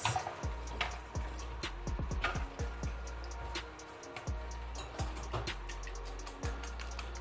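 Batter for yamarita with chopped onion being whisked briskly in a bowl, a steady run of close, sharp clicks and taps with no talking.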